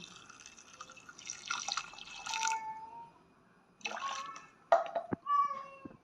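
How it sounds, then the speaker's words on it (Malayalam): Water is poured into a cooking pot of vegetables seasoned with chilli, salt and turmeric, heard as short, quiet splashing bursts and drips separated by brief silences. "വെള്ളം ഒഴിച്ചു കൊടുക്കാം"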